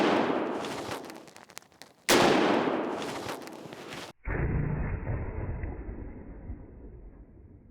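Loud, sharp rifle reports from .223 rounds fired into ballistic gel, two booming shots a couple of seconds apart followed by a long, slowly fading outdoor echo and rumble.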